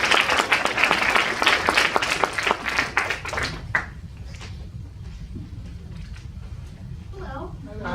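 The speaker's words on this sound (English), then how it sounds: "Round of applause for Molly, please." Audience applause at a youth poetry slam, a dense burst of clapping and crowd noise for nearly four seconds that stops abruptly, leaving room tone and a voice beginning to speak.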